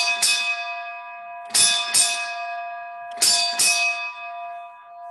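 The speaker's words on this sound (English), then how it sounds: "So as I ring this bell again, think of your friends." A ship's bell is struck in three pairs of ringing double strokes, each clear metallic note decaying slowly between pairs, rung at a yacht club annual meeting to mark the changing of the watch.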